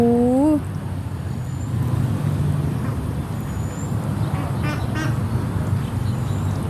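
A loud nearby duck quack opens, followed by fainter, scattered quacks from free-range ducks beside a canal, over a low rumble of passing traffic.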